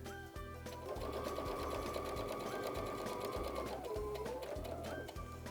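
A sewing machine runs close and steadily as it back stitches along a quilt binding, its rapid needle rhythm humming continuously with a brief shift in pitch near the end, no voices over it.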